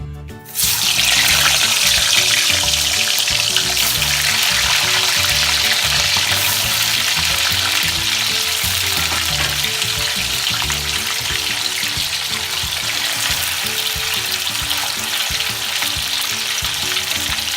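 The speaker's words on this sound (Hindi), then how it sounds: "ये देखिएगा तेल गरम हो चुका है। इसमें मैं पनीर के ये पीस डालूंगी।" Paneer pieces fry in hot oil with a loud, steady sizzle that bursts up as they go into the pan and then crackles on without a break.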